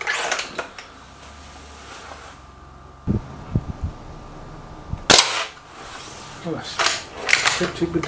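Remington Warhawk air rifle fired at a target gallery: a sharp crack near the middle stands out amid scattered smaller knocks and taps, with faint low background hum and soft talk nearby.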